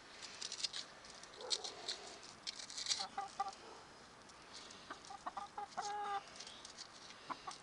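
Soft, scattered clucks from chickens, with light scratching and pecking in between, fairly close but quiet.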